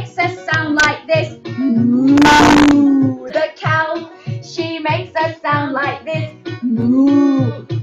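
A person imitates a cow mooing with a single drawn-out moo in the middle of a children's farm song, surrounded by sung and spoken lines.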